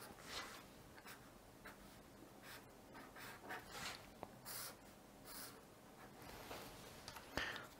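Pen scratching out a cylinder diagram on paper, a series of quiet, close strokes and scribbles in irregular bursts, each a short rasp with pauses between.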